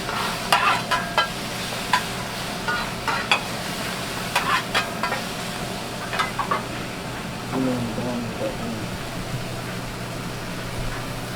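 Onions cooking on a hot surface for a Philly cheesesteak: a steady, low sizzle with scattered scraping and tapping from a spatula stirring them, close and unhurried, with faint room hum underneath.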